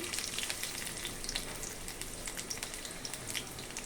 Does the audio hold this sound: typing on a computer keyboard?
no